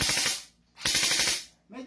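An M4A1 Commando airsoft gun fires two quick full-auto bursts, each a dense, rapid rattle of shots close to the mic, separated by a short pause. A voice begins at the very end.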